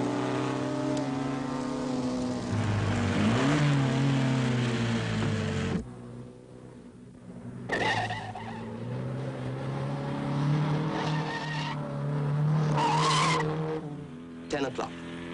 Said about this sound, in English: Ivor Buab's driving as though he were at Le Mans, because there's always the chance of a class win.